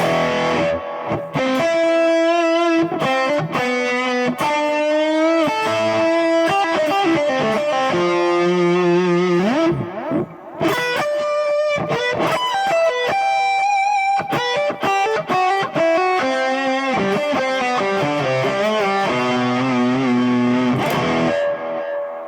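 Bullfighter D160SE digital guitar with onboard effects played through a delay setting, distorted melodic lines and chords with echoing repeats trailing each note, loud and continuous with no talking.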